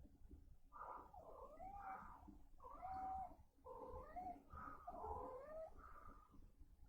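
A small cat gives a run of drawn-out, wavering meows and yowls, close and fairly loud, in four or five separate calls over several seconds in a quiet indoor room.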